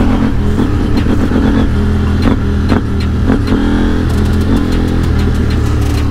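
KTM 890 Duke motorcycle engine running close by, a loud, steady mid-pitched rumble with repeated throttle blips and revving surges throughout, no talking.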